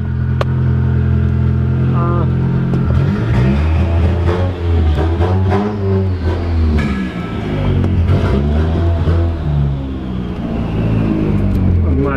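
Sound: 240 car being driven after power steering bleed

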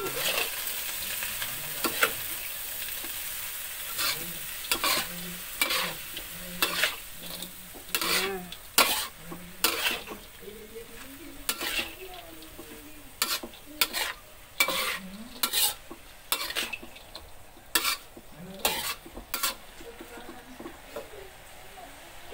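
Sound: stirring dried shrimp in a frying pan

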